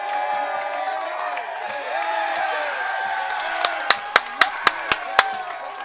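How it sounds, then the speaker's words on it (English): Rugby crowd at an Ottawa versus Sherbrooke match cheering and whooping after a try, a sustained roar that ends in a run of sharp, nearby claps. "The crowd is electric here."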